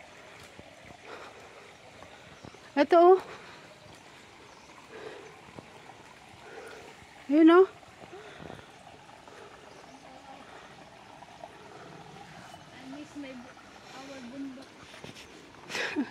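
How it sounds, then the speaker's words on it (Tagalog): A strong mountain stream rushes steadily on a hiking trail on Lamma Island, a continuous watery wash under voices talking close by. "Ere ang lakas ng agos oh."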